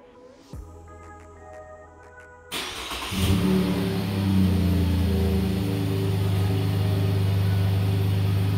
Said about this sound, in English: 2017 Chevy Colorado, remote start by NUSTART.